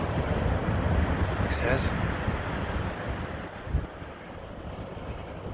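Ocean waves rush and drag over the shingle of Chesil Beach at night during cod fishing, a loud continuous roar mixed with heavy wind noise, while someone speaks briefly over it.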